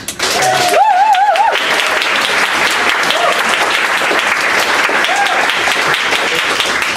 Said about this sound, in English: Let's do some practice clapping